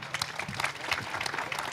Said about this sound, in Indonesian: Tepuk tangan dulu Bang Parman.